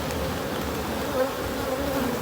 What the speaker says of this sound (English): So we need to get all these bees off of here.